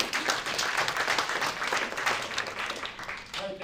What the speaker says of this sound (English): All right, round of applause for Vism AI.